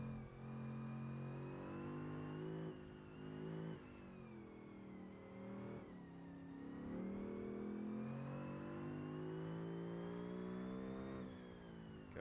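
Civetta Scintilla GT3 mod car in a racing game, its engine droning loud and continuous under full throttle, pitch climbing and dipping through gear changes and corners, with no voices over it.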